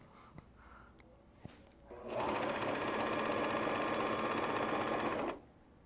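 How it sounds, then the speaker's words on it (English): A sewing machine stitching a jacket: a couple of soft clicks and handling knocks, then a steady, fast mechanical whir of stitching for about three seconds that stops abruptly, close and clear. "So now I get to sew."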